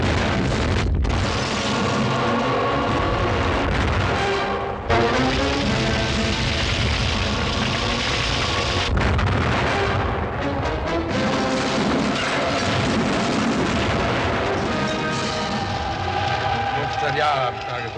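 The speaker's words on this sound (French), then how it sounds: "Le feu de l'artillerie doit rester sur la ville." Artillery bombards a town during the siege of Kolberg in 1807, with heavy booms and rumbling blasts repeating over a continuous din while voices talk throughout.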